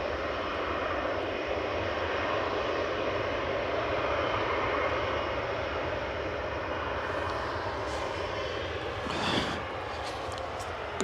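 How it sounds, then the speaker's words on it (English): Engines of a Singapore Airlines Airbus A350-900 at Manchester Airport, bound for Houston, drone as a steady, moderately distant rumble throughout, with a brief rustling disturbance near the end. "A350-900 for Singapore with flight 52, 9V SMS heading to Houston"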